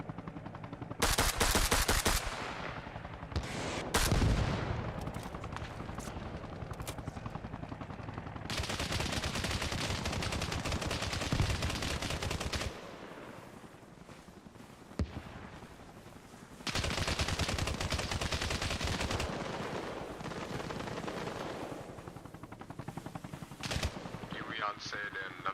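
Machine-gun fire aimed at aircraft in Arma Reforger, long loud bursts of rapid shots separated by quieter stretches of engine drone, with brief single shots in between.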